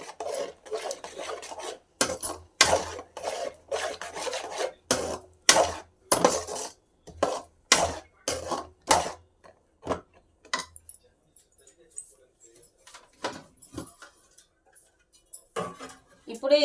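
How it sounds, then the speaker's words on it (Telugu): Peanuts stirred and mixed in a pan for a chana dal and peanut chikki, a run of sharp scraping, rattling strokes in quick bursts, then quieter sparse scrapes with brief pauses, fairly close and with no talk over it. "పల్లీలు పోసి కలుపుకోవాలండి బాగా రెండు నిమిషాల పాటు"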